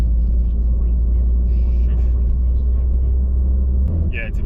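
A manual BMW E46 325, a worn fixer-upper, drives along with a loud, steady low engine and road rumble heard from inside the cabin, ending in a brief clunk.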